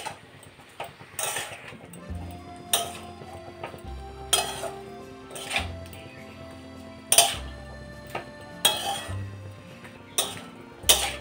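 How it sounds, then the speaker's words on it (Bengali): Bottle gourd greens with poppy seed, salt and sugar are mixed in a pan, giving repeated sharp clinks and scrapes of a spatula against metal in an irregular rhythm, with a faint low hum beneath. "সব উপকরণ দিয়ে দিয়েছি, এখন মিশিয়ে নেব।"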